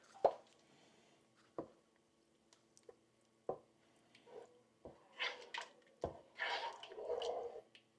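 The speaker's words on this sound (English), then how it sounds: "Now let's stir." A spoon stirs cheddar cheese soup with beer in a pot, giving quiet scattered squishy plops and wet clicks, denser and thicker toward the end, with no talking.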